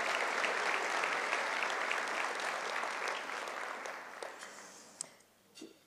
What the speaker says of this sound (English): we'll give a big round of applause to our service workers as well.